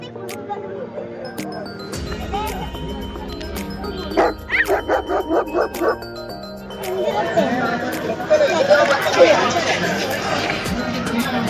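A dog at a dog show lets out a quick run of about seven sharp barks at close range, amid background noise and murmuring.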